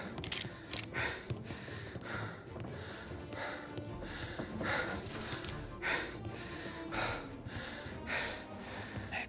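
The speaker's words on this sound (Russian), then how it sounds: "Опять он дышит, как паровоз" A video game character breathes heavily and raggedly, like a puffing steam engine, in a rhythmic series of faint, breathy gasps and snorts repeating roughly every second.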